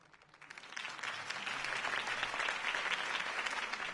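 A large crowd in a video game claps and cheers steadily, the applause swelling quickly after a quiet start and staying loud throughout.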